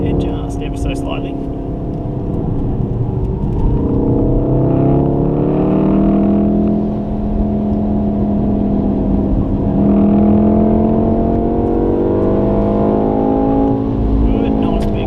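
A Golf R race car runs laps at a Wakefield track day, its engine droning steadily loud through the whole stretch with shifting pitch sweeps as it accelerates and brakes, while a person talks over it throughout.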